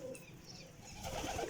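Rampuri pigeons with closed tails and broad wings, kept in pairs, coo quietly in a short, faint stretch of soft murmuring calls that swells slightly toward the end.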